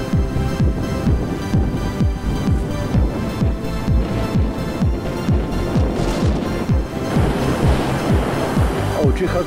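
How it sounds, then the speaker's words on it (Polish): A waterfall on the Biała Lądecka river near Czychowice Kłodzkie roars steadily and loudly, a dense continuous rush of water under a repeating rhythmic throb. "rzeka Białolądecka, wodospad na rzece."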